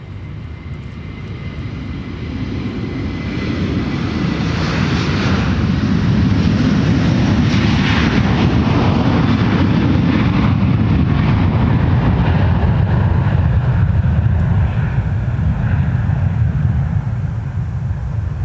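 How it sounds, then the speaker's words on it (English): Delta 160 Heavy, a jet airliner departing Minneapolis–St. Paul Airport for Amsterdam, roars down the runway on takeoff, a loud, sustained engine rumble with broad rushing noise that builds and swells over the full clip, heard alone. "Let's watch and listen to Delta 160 Heavy rocket off to Amsterdam"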